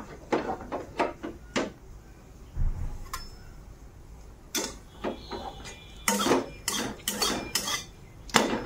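A wok set down on a home stove while preparing a local Assamese khar dish, with scattered metallic clanks, scrapes and clatters of pots and utensils in a quiet kitchen.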